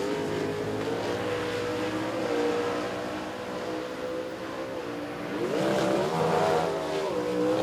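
Drag racing cars roar down the strip at an NMRA/NMCA eliminations event in Chicago, a loud sustained engine howl that rises again with a second surge of acceleration toward the end.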